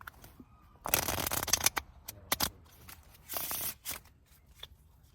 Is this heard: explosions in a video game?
no